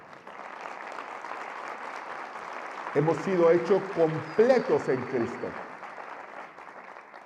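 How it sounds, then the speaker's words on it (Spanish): A church congregation applauds in a steady, continuous wash of clapping, while a preacher's voice rises over it partway through and then fades back under the clapping. "denle un aplauso al Señor."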